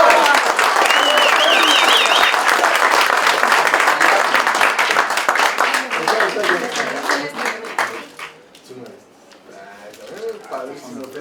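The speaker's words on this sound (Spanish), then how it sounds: "¡Aplausos!" An audience applauds at a medal ceremony for teachers honored for academic seniority, loud sustained clapping that tapers off toward the end as voices and room murmur take over.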